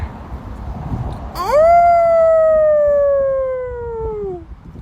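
A person imitating a wolf howl, one long loud sustained tone that rises quickly, holds for about three seconds, then slowly falls away, with a faint murmur of background noise beforehand.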